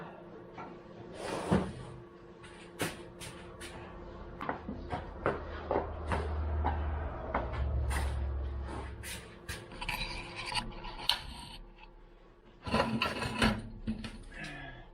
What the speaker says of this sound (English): Large chisel pounded in the thread here.